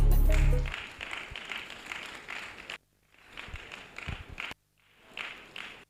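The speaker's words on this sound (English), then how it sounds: "So let's keep clapping." Audience applause at a graduate members' induction ceremony, steady clapping that breaks off twice, pausing briefly before resuming, fairly close and moderately loud.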